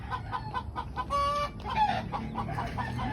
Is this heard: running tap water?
no